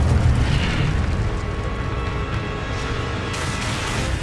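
Fiery spell blast from Incendio cast in Hogwarts Legacy on PS5, a loud booming burst that opens strong and rumbles on as a sustained roar across the clip.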